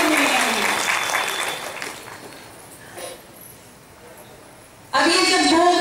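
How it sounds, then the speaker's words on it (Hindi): A gathered audience at a Hindi spiritual discourse breaks into applause that swells, thins out and briefly dies down, then returns abruptly loud near the end. "तो एक बार आपके लिए ताली तो बजा, आपके नसीब में है।"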